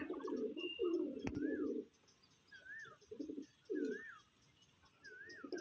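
Andra pigeons kept loose in a hobby loft at Bagnan coo in repeated low, throaty phrases close by, with a few short chirps from other birds between the bursts.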